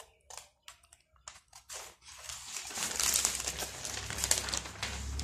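Scissors cut fabric for a sleeveless frock, first in short separate crunchy snips and then in a longer, steady rustling cut, close and fairly loud.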